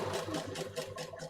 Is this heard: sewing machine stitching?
yes